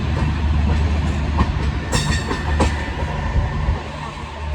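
A Vande Bharat train rumbles past nearby with a steady low roar and faint rhythmic wheel clatter, continuous throughout with no voices.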